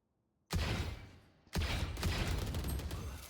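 Gunfire in a shooter video game: two heavy, loud bursts of shots, the first starting about half a second in and fading, the second hitting at about a second and a half and continuing as sustained, dense fire to the end.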